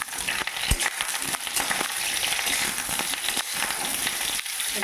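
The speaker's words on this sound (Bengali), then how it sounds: "প্রথম আমি আলু আর ফুলকপিরে হালকা একটু ভাজিয়ে উঠে নিই।" Potatoes and cauliflower sizzle and crackle in hot oil in a wok, a dense steady frying hiss with scattered pops and spatters that continues throughout without speech.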